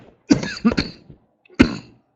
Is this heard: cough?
yes